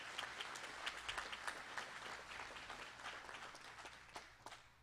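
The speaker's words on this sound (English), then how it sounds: "Let's give the graduates a round of applause." Applause for graduates at a spring community college graduation ceremony, a fairly faint, steady spread of many hands clapping across a large hall, with scattered sharper claps standing out.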